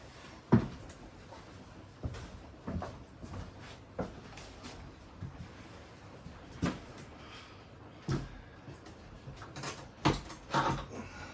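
The door of a Teenage Mutant Ninja Turtles pinball machine being handled and shut: a series of scattered close knocks, clunks and rattles against quiet room noise, one sharper thump near the start.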